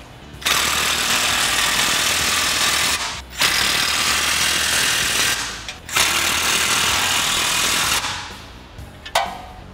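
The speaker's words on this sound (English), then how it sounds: "Now I'm gonna use an impact gun." An impact gun tightens nuts on a hitch receiver being bolted to a Jeep Wrangler frame, firing in three long, loud, rattling bursts with brief pauses between them, very close up.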